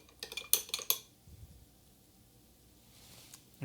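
A spoon clinks rapidly against a cup while stirring a mixture of dark brewed coffee and dark rum, a quick burst of close metallic taps that stops, followed by quiet handling.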